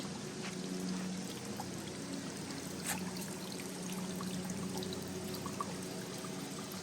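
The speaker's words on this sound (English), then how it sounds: "Little trickling" Water trickling and splashing steadily in a small garden fountain waterfall on a spring walk, soft and continuous, with faint outdoor background.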